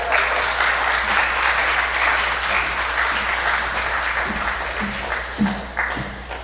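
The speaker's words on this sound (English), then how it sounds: "Give her a round of applause again." Sustained applause from an audience at a pre-budget consultation, dense and even, thinning slightly near the end as a few low thumps come through.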